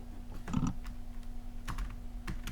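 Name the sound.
typing a title on a computer keyboard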